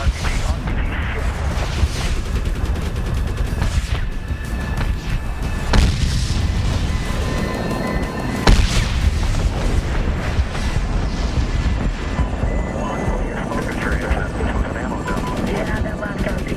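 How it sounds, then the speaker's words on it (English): RPG explosions in the 2010 Medal of Honor video game: deep booming blasts over a constant roar of helicopter and battlefield noise, with a couple of sharper detonations standing out amid continuous combat din. "Yeah, that last RPG flagged us pretty good."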